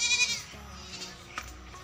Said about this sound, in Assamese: সেইটো ছাগলী খেদি দিয়াচোন